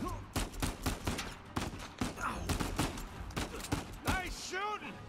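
Gunfire from the video game Uncharted 4: A Thief's End, a string of sharp shots and bursts running throughout, mixed with game sound effects and overlapping character dialogue.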